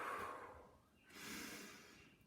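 Deep breathing during a children's dance and movement session: one long breath in followed by a slow exhale, soft and close with no talking.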